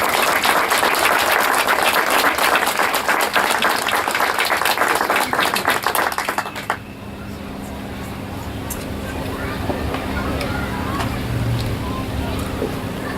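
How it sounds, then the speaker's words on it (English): An audience at an Ocean Institute event aboard the Pilgrim tall ship breaks into loud, dense clapping for about seven seconds, then it fades into a softer background murmur of the crowd. "please give a very great round of applause for Senator Patricia Bates."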